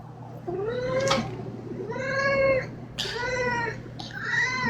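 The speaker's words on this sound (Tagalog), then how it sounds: "Ito nga pala yung pusa ni Kuya Kyler." A cat meows repeatedly up close, four drawn-out, insistent cries with short pauses between them over a faint steady hum.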